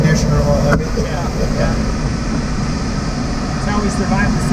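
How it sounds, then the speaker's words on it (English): Steady rushing airflow fills a glider cockpit at about 5,000 feet, a constant broadband hiss like an air conditioner running, with a few faint clicks and no clear break. "Sounds like I have an air conditioner on."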